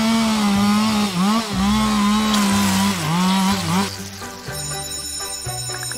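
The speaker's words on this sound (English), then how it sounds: "What did you get me? A chainsaw. Perfect." A chainsaw runs in the video game Kindergarten 2, a steady buzzing whine that rises and dips in pitch as it revs, loud and close, changing tone toward the end alongside game sounds.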